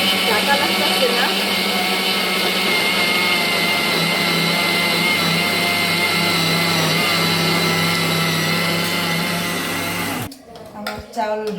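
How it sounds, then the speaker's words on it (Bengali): A blender grinds raw rice into flour, a loud, steady, dense motor whir that runs continuously for about ten seconds and then cuts off, leaving brief quieter handling noises. "আমার চাল ব্লেন্ড করা হয়ে গেল।"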